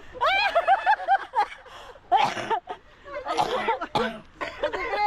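Several harsh coughing bursts break up close-by, voiced, laugh-like sounds, loud and irregular over about five seconds.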